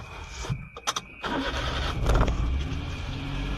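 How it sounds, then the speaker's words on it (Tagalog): A car's ignition key is turned; a brief jangle and clicks give way to the engine cranking and catching at about one second, then settling into a steady, close idle with no one speaking. "Kunin ang susi. Makikita ang susian sa bandang kanan sa likod ng manubela. At i-on ang kotse."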